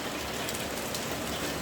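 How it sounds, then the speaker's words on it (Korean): Steady rain falls in Korea on an early April day, a constant even wash of drops on surfaces without pause, fairly close and moderately loud, with no one talking. "이렇게 비가 오네요"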